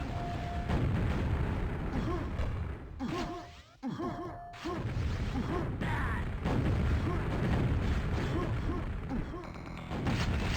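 Grenade blasts in a QuakeWorld duel match, heavy booming bursts with a sharp crack near the middle, amid continuous gunfire and game noise, loud and busy throughout.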